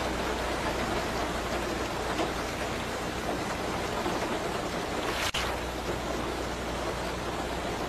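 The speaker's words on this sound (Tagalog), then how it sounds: "palalaki kasi ang patak ng ulan ngayon" Steady, dense rain hisses continuously, with one brief sharp crack partway through.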